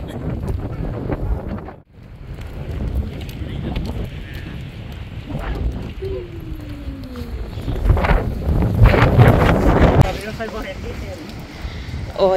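Strong gusting wind at World's End (Verdens Ende) on the Norwegian coast, roaring and buffeting the microphone in loud, uneven blasts that swell near the end, with people talking over it.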